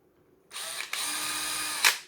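A 5.5 mm wrench works on the mud flap fasteners of a Pirate XT-S RC car, giving a steady close mechanical whirring rasp for about a second and a half, with a brief click midway and a sharper burst at the end.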